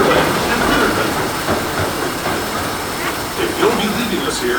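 Disneyland Railroad train rolling on the rails near New Orleans Square Station, a steady rumbling clatter with hiss, and a recorded announcement voice speaking over it.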